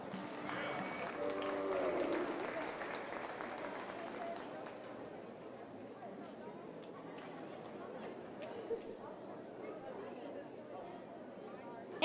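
Crowd applause at a 2022 Polk County Youth Fair commercial heifer show, a muffled, rolling patter in an arena that swells early and then thins into scattered claps under steady crowd chatter and voices.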